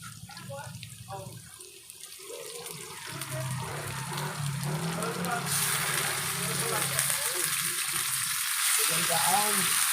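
Pork and garlic sauté in a hot wok for adobong baboy, a steady frying sizzle that swells louder and brighter midway, with scraping stirs and voices talking over it.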